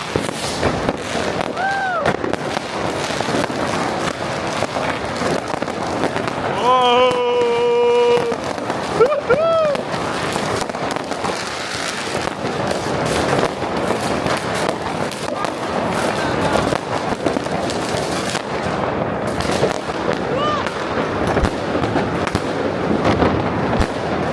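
New Year's Eve fireworks bursting and crackling through German streets, a dense continuous barrage of pops and booms near and far, with whistling rockets rising and people's voices mixed in.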